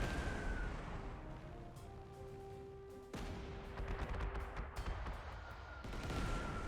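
Rapid gunfire bursts from a Panzer Corps 2 battle as a bomber is shot up, loud crackling shots and booms piling over game music tones in a dense, continuous barrage.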